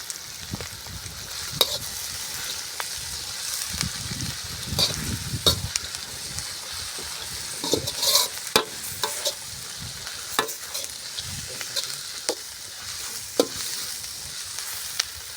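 Curry leaves crackle and sizzle in hot oil with a steady rain-like hiss, broken by sharp pops and stirring clatter near the pan, with no voices.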